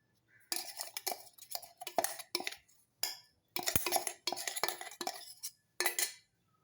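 Ground sambar powder spices with curry leaves being stirred together in a metal vessel. A spoon clinks and scrapes in short, quiet bursts with small pauses between them.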